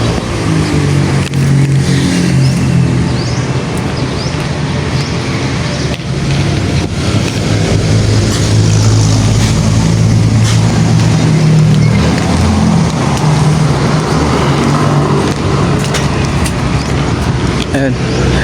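Road traffic beside a cemetery at night, a steady wash of car engines passing close by and occasionally revving, loud and continuous for the whole stretch, with people talking underneath.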